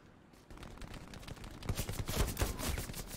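Heavy machine gun fire in the video game Hell Let Loose, starting quietly and building after the first second into dense, rapid bursts of shots that stay loud to the end.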